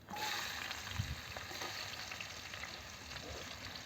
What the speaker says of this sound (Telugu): కొంచెం ఆయిల్ వేసుకున్నాను. ఇప్పుడు కట్ చేసుకున్నాను కదా, ఈ ఆనియన్స్ని వేసుకుంటున్నాను అన్నమాట.